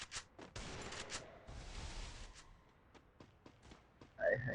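Gunfire in a fast-paced online shooter game: bursts of sharp shots crackle through the clip, several loud reports clustered early and a louder burst near the end, with no talk.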